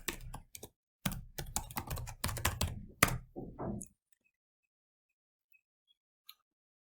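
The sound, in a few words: typing a password on a computer keyboard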